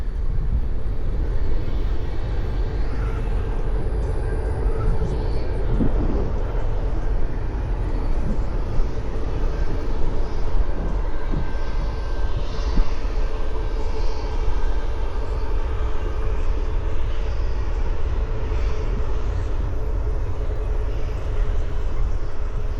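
An airplane drones low overhead on its runway approach near a Dallas flight path, a loud, steady broadband engine roar that holds for over twenty seconds with no talking.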